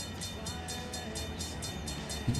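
Motor-driven crossing bells clang in a steady rhythm as a train passes a railroad crossing in the Run 8 train simulator, with a constant low rumble of rolling cars beneath, loud and continuous.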